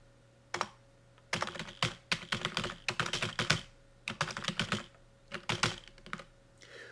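Computer keyboard typing code, heard as bursts of quick close key clicks separated by short pauses, crisp and fairly loud with no talk.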